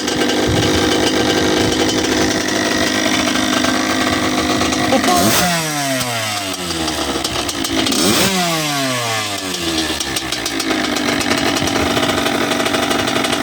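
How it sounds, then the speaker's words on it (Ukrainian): A cold Kawasaki KX 85 two-stroke motocross engine idles loudly up close, then is blipped hard twice, each rev spiking sharply and falling back to a steady buzzing idle. "Кидаємо газ, обороти стабільні. Це ще навіть він не прогрітий."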